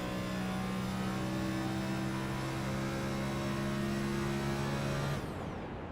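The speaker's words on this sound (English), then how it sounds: "I believe we're hearing Brandon Bowie shutting down the engine there for some fuel strain." A race car engine in a sim racing game drones at a steady mid-pitched hum for several seconds, then cuts off abruptly as it is shut down to save fuel, leaving a quieter tail.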